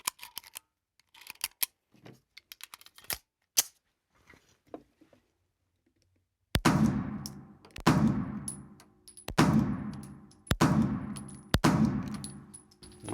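Five sharp shots from a Girsan MCP35 9mm pistol, fired one at a time at a steady pace with about a second between them, each loud crack ringing out briefly after long quiet.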